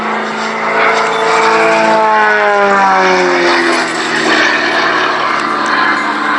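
A model aircraft's propeller engine at an airshow aerobatic display, loud and continuous, its droning pitch rising and falling with Doppler sweeps as it manoeuvres overhead.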